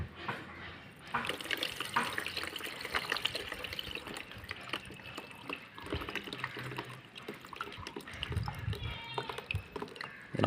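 Water drains from a fish tank, running and splashing steadily, with gurgling and trickling throughout, close by and fairly loud.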